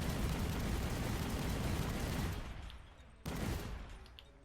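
Rapid gunfire from a gun in the PS4 video game Dreams: a loud, dense burst of shots that tapers off, then one last sharp crack and a fading tail.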